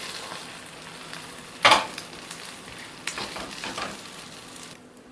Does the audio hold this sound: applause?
no